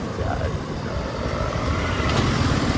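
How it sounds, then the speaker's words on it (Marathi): Road traffic noise: a dense, loud rumble of passing vehicles heard from close by, steady for the whole stretch with no voices over it. "आज कुठे ट्रॅफिक नव्हता फक्त आज इथं लागला"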